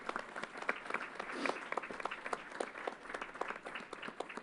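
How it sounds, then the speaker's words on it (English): A crowd applauds at a press event held at the Yankees' baseball stadium, used as a vaccination site, with steady, fairly faint clapping throughout and no talking. "Let's give them a big round of applause."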